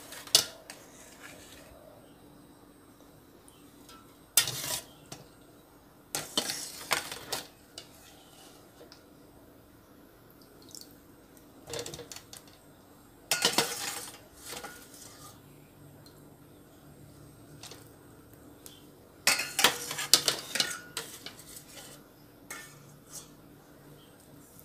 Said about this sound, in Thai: ตักกล้วยออกมานะคะ